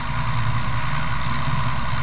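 Light aircraft piston engine running steadily during a pre-flight run-up check, a loud, even drone that holds without change for the full two seconds.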